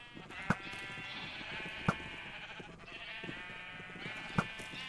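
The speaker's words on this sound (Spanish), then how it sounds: "¿En serio le da una oveja?" Sheep in the Minecraft video game bleating three times at spaced intervals, short clear bleats over a faint steady background hum.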